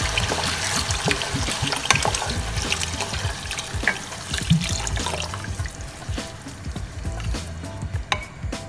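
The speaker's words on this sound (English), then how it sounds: "I'm gonna add some water." Water poured into a simmering pan of ragù sauce with tomato and wine, a continuous splashing trickle with sizzling bubbles close to the microphone.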